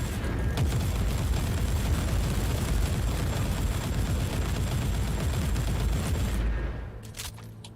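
Dense, continuous gunfire and booming blasts from turrets in the video game Warhammer 40,000: Inquisitor – Martyr, loud and unbroken for several seconds before cutting off to a few faint clicks.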